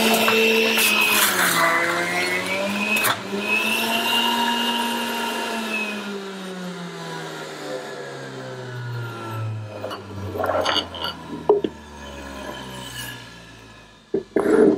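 Electric juicer motor whining steadily while processing beetroot, its pitch sliding slowly downward as it runs, with scraping and clattering bursts near the end.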